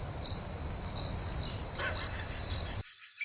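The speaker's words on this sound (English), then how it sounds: "I think it's crickets, actually" Crickets chirping outdoors in steady, evenly spaced bursts roughly every half second over a soft background hiss, moderately close and unaccompanied by talk, cutting off abruptly near the end.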